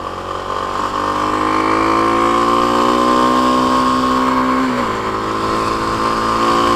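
A Kawasaki KLX300 dual sport motorcycle engine drones steadily while riding, a loud close buzzing tone that holds nearly level, then drops slightly in pitch as the rider eases off before picking up again.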